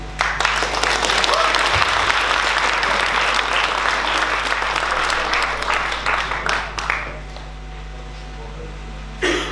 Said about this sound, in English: let's give a nice applause for the musicians